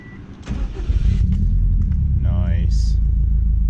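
A Subaru engine fitted with new spark plugs and coil packs cranks and catches, then settles into a steady, loud idle rumble, with a short whine partway through and a brief chirp near the end.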